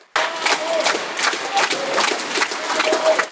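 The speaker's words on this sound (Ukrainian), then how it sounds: "У залі Коломийської філармонії імені Олександра Козаренка не вщухають гучні овації" Loud ovation in the Kolomyia Philharmonic concert hall at a season opening, dense clapping with cheering voices filling the room, steady and close throughout.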